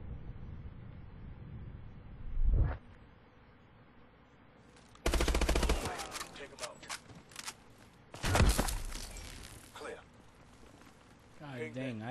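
Gunfire in the shooter game Advanced Warfare: a short burst near the start, then two loud, dense automatic volleys with a rattling, echoing tail, each stopping abruptly.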